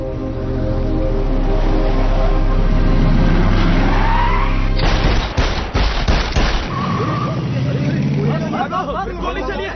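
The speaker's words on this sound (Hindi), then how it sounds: "गोली चलिए, भागो यहाँ से।" Gunfire in a Hindi-dubbed film scene: a rapid burst of shots cuts through loud crowd babble, engine noise and music.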